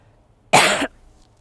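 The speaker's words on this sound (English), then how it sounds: "as I cough." A single sharp cough, close and loud, in otherwise quiet surroundings.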